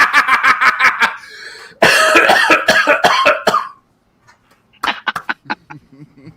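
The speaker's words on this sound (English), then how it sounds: "You just coughed up a lung." Heavy coughing, loud and close, comes in rapid hacking bursts: a long fit, then a brief silence and a final shorter cluster of harsh coughs.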